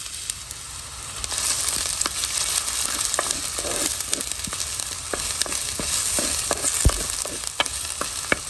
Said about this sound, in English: add some oil, around 2 to 3 tablespoon oil, 1 chopped medium-sized onion